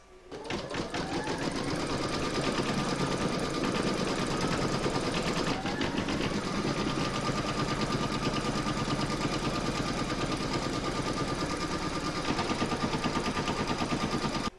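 An embroidery machine stitches down vinyl in the hoop for an in-the-hoop pooch pouch bag dispenser, with rapid, steady, loud mechanical stitching running continuously throughout and no voices.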